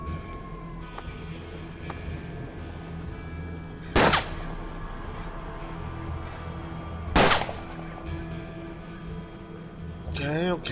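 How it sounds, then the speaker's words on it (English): Two sharp, loud gunshots in Hard West ring out several seconds apart over a steady rumbling game ambience, with a warbling electronic tone rising near the end. "The gunfire woke up Phineas"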